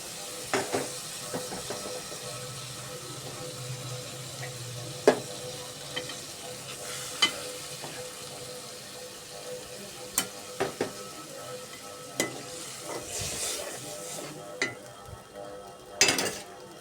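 Native flat beans and potatoes frying with spices in a pan, a soft continuous sizzle broken by scattered sharp clinks and scrapes of a utensil stirring against the metal.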